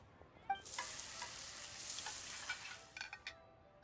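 Cooking sounds from the Genshin Impact video game: a burst of frying and sizzling with stirring, starting after a sharp clink, swelling steadily, then ending in a few quick utensil taps before falling silent.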